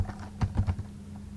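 Soft, quick keystrokes on a computer keyboard while code is typed, a few clustered taps close by over a low steady hum.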